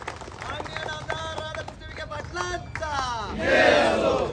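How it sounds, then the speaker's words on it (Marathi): A large crowd at a public event honouring the guardian minister shouts in unison, then swells into a louder burst of cheering and clapping near the end. "आणि एकदा जोरदार टाळ्या पालकमंत्र्यांसाठी आपण कराव्या."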